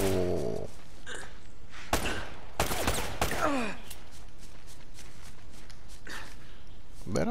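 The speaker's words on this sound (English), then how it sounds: "Where are they shooting me from?" Enemies open fire on the player in the video game Uncharted, with bursts of gunshots and rapid volleys cracking loudly across the clip amid other game sounds.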